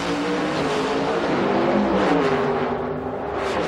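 Drag race cars at the 2006 IHRA Rocky Mountain Nationals, Pro Modified and alcohol funny car classes, roar in a loud, sustained engine blast with a steady droning pitch that swells midway, filling the whole stretch without a break.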